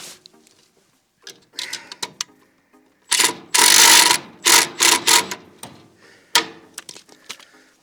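A wrench tightens a nut on an Ifor Williams trailer hinge, giving bursts of close ratcheting and metallic clicks separated by short pauses, loudest in the middle.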